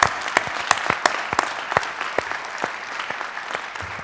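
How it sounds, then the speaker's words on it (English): Audience applause for performers at a University of Michigan diversity, equity and inclusion community assembly: a steady, dense wash of clapping lasting about four seconds, with sharper individual claps standing out. "how about another round of applause for our spectacular performers?"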